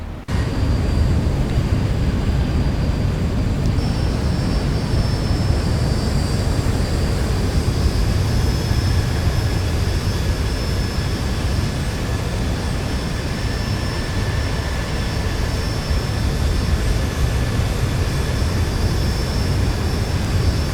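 A Ryanair jet airliner's engines drone in the X-Plane 11 flight simulator. A loud, steady, continuous roar carries a faint high whine and holds unchanged for about twenty seconds, with no talking.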